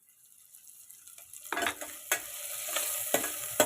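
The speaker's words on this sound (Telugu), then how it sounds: "కలిపేసి ఒక నిమిషం మగ్గించుకుందామండి." Pumpkin curry stirred and cooked in a pan, quiet at first, then a spoon scrapes and clinks against the pan in several sharp strokes over a light sizzle, close by with no voices.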